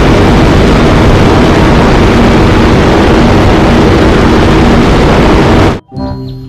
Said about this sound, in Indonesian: Yang ini helikopter tentara